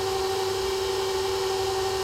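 A homemade-spaghetti pasta machine with its spaghetti cutter running gives a constant, even motor drone throughout, with no talking and no change in pitch.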